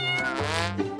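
A kitten meows in a single drawn-out cry, close and fairly loud, with a shorter high mew at the end and no talk over it.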